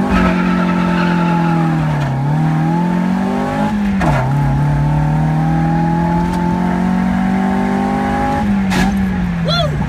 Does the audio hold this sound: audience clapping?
no